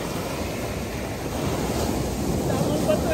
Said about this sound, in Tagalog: Nampas nung alon.